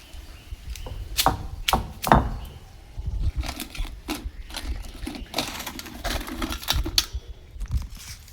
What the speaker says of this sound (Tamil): கழுவி வச்ச நண்டை இப்படி அம்மியில் வச்சு ஒரு நை நச்சுக்கிறோம்.